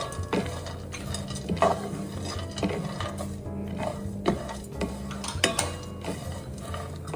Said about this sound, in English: Keep stirring the almonds as you add in cashews, coconut, walnut,